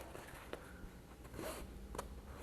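A zipper on a sewn necessaire box, made using the milk-carton box technique, is handled in short, quiet rasping pulls and a few small clicks, close and soft, with no talking.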